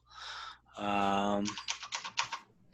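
Rapid clicking of keys on a computer keyboard in short uneven bursts, following a stretch of voices at the start.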